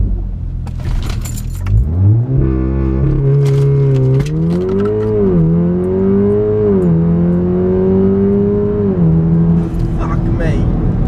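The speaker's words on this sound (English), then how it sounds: "The great party trick about the Golf R is the launch control" A Volkswagen Golf R pulls away hard under launch control, its engine note rising in loud stepped harmonic sweeps through the gears over about ten seconds, with rattling and jangling from loose items inside the cabin.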